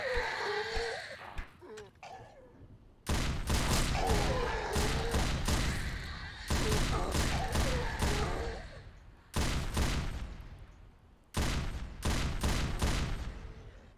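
A mounted turret fires bullets in the Roblox game Those Who Remain, loud bursts of rapid fire that start and stop in several volleys.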